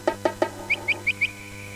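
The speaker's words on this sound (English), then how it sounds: "A tweeting bird." A tweeting bird sample played on a Yamaha SeqTrak: three short chirps followed by four higher, thinner tweets in a quick even rhythm, clear and isolated over a faint electronic hum.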